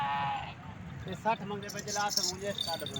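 Goats bleating at a crowded livestock market in Multan, with several short wavering calls rising over steady crowd chatter and people talking nearby.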